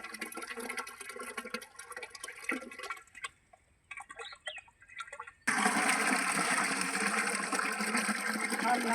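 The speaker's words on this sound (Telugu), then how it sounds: "ప్రధానంగా మనం డ్రమ్ములోకి పోసుకోవాలి" Liquid poured into a drum while preparing liquid jeevamrutham: faint splashing and trickling, then a sudden loud, steady gush of pouring for the last few seconds.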